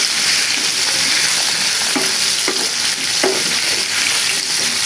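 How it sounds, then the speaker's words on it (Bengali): Potatoes frying in the same oil with a little turmeric, a loud continuous sizzle and crackle close by, broken by a few stirring scrapes, with no voices. "এখন আমি সেম তেলে আলুগুলো ভেজে নিচ্ছি"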